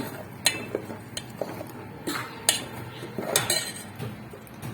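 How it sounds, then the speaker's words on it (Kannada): A spoon stirs and scrapes salted masala in a cooking pot, giving irregular metallic clinks and scrapes at close range, some sharper than others, over a soft background with no voices. "ಈಗ ಚೆನ್ನಾಗಿ ಮಿಕ್ಸ್ ಮಾಡ್ಕೊಳ್ಳೋಣ"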